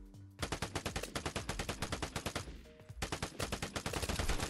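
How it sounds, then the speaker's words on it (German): Machine gun fire in the video game Vigor: rapid sustained bursts of loud automatic shots, a brief pause in the middle, then another long burst, with no talking. "Das war ein Maschinengewehr."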